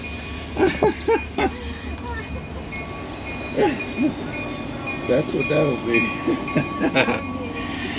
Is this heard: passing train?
yes